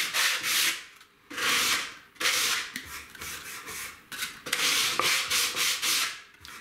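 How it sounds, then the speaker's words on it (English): Sandpaper of 120 grit wrapped around a wooden block rubs across the end grain of an MDF edge in about seven steady strokes, close and fairly loud, each a hissing scrape with short pauses between. "I've got some 120 grade sandpaper. I'm going to wrap it around a block of wood, and just to give the end grain a little bit of a sand"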